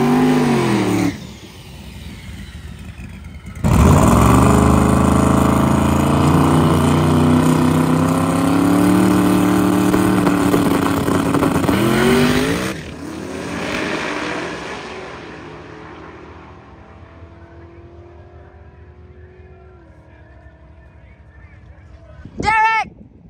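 Race car engines roar at a racetrack: a loud, sustained run of rising revs and steady engine drone, then fading to a distant hum before a brief sharp burst at the end, with people talking throughout.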